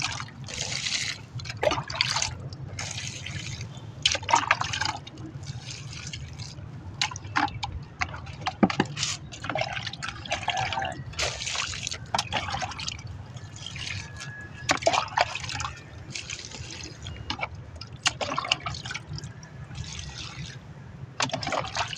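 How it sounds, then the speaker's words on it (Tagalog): Chili plants bearing fruit are watered in the morning: water splashes and trickles close by in irregular bursts and pours, with pauses between. "Balik umaga na naman po ang ating pagdidirig."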